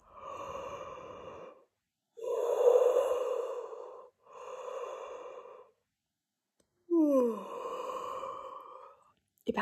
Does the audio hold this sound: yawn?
yes